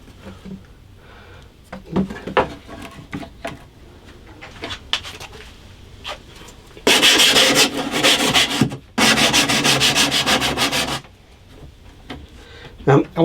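Sandpaper rubs on the wooden binding of a first handmade guitar, two sustained loud scraping bursts after scattered softer strokes and handling knocks, close up.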